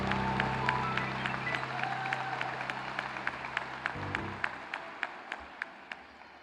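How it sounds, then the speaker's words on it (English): A crowd at the 2019 SMU Cox School of Business commencement applauds the Executive MBA graduates in a large hall. The clapping is scattered and thins out until only a few distinct claps remain. "One more round of applause for the 2019 graduates of the Executive MBA program of the Cox School of"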